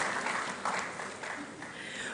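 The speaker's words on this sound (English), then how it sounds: "Another round of applause for Engineer Dr. Brima." A short burst of applause from an audience at a university graduation ceremony, a dense wash of clapping lasting a couple of seconds.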